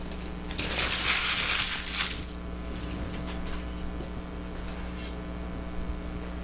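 Homemade marshmallows peel off paper on a wooden board with a loud crinkling, crackling rip at first, then softer scattered rustles over a steady low hum.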